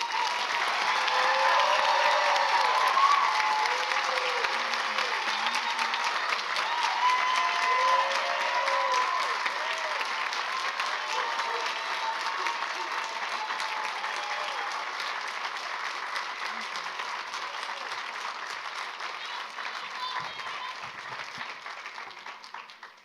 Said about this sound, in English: Please give these exceptional individuals, these graduates, a round of applause.